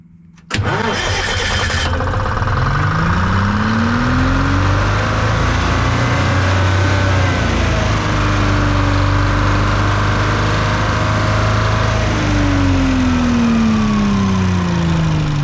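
A Detroit 271 diesel generator engine cranks and fires, then runs loud and close with a steady throbbing drone and rising and falling speed changes as its RPM is set.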